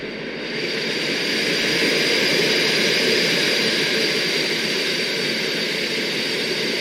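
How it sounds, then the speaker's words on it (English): Concorde engines roar in a flight simulator game with thrust reversers 2 and 3 deployed in flight, a loud, steady, broadband jet rush that holds without a break for the whole span. "You deploy reversers in flight just like on the ground? Yep, except it's reversers 2 and 3. Wow, that's loud."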